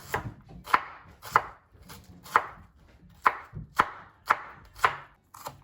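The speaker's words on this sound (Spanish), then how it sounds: "Ahora vamos a picar el apio bien finito" A kitchen knife chops celery finely on a cutting board in a quick, steady series of crisp thuds, close up and alone with no voices.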